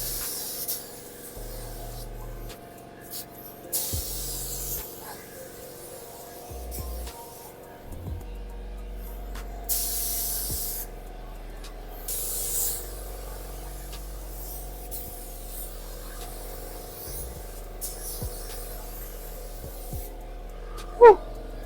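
Spray gun shooting sealer onto the front end of a Mk3 Supra: repeated bursts of airy hiss, each a second or two long with short gaps between them, over a steady low compressor hum.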